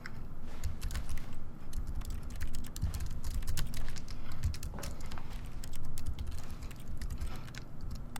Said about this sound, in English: Press F on your keyboard.